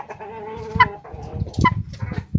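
A hen clucks close by while being weighed, giving a drawn-out tonal call and then several short throaty clucks in an uneven rhythm.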